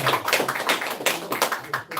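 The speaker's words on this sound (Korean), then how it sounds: "정승관 회장님께 뜨거운 박수 한번 보내주시죠" An audience at a company seminar gives the chairman warm applause, a steady, fairly close wash of many clapping hands that lasts the whole stretch without pause.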